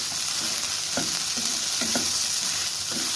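Okra and onion frying in a pan over low heat, stirred in a few quick scraping strokes over a steady soft sizzle.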